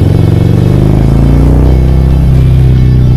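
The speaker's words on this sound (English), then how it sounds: "And that Bassani exhaust sounds good." A loud motorcycle engine with a Bassani exhaust rumbles close by with a deep, throbbing exhaust note that rises slightly as it revs.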